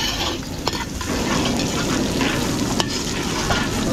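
Garlic and onion sizzle in a catering pan while being stirred, a steady close frying hiss with occasional clinks of a utensil against the pan.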